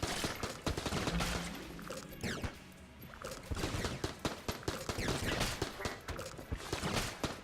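Rapid alien sidearm fire from Enter the Gungeon, charge and quick tap shots against bulletkin, as a dense run of sharp repeated blasts with a brief lull partway through, loud and continuous over game noise.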